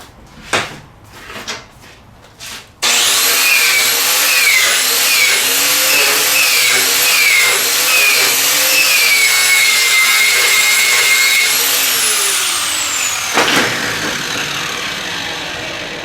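Stick welding with a 7014 electrode at low amperage: a few sharp clicks, then a loud, steady crackling arc hiss with a wavering whine that runs for about ten seconds before cutting off.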